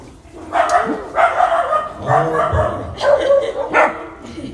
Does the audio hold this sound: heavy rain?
no